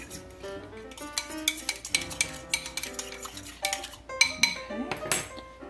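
A utensil clinks and scrapes rapidly against a bowl as cinnamon, sugar and a pinch of flour are blended for cinnamon rolls, producing a busy, rhythmic run of close metallic taps and chinks with no voices.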